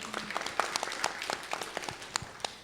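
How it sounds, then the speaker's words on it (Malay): Sparse applause from a small audience in a university auditorium at UPSI Tanjung Malim, with distinct, separate hand claps ringing out irregularly over a quiet room. "Tepukan untuk beliau."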